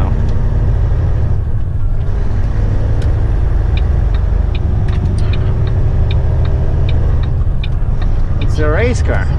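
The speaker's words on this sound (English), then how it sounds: "See? The truck pulls like crazy now." Heavy haul truck pulling hard as it merges onto the I-76 highway: a loud, steady low engine rumble and drone, heard from inside the cab, with faint ticking and a brief squeak near the end.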